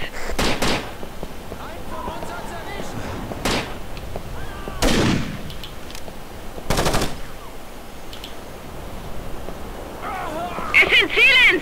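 Gunfire in the Rainbow Six Lockdown video game: several sharp, loud shots and short bursts spaced irregularly over quieter game ambience, with a voice talking in between.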